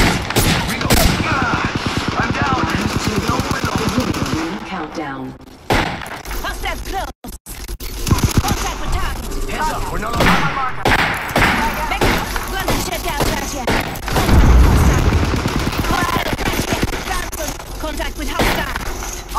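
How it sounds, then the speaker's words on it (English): Apex Legends gunfight with rapid automatic weapon fire in loud bursts, brief gaps and reload clatter between volleys, heavy thuds mixed in, and a voice talking over the action. "Open fire. Firing."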